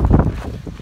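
Strong gusts buffet the microphone outdoors in crazy wind beside a Kawasaki Bayou KLF400 2WD ATV, a loud, continuous low roar filling the short moment with no voice over it.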